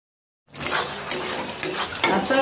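Potato and ridge gourd peels being stir-fried in a pan start after a short silence: a spatula scrapes and stirs through the food over a continuous sizzle, with a few louder scrapes, close up and without speech.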